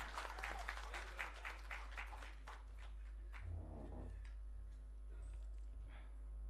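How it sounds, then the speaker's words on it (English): Scattered applause from an audience at the Bengaluru International Film Festival awards ceremony, clapping quickly at first and then thinning out, heard over a low steady hum. "Let us welcome with a big round of applause"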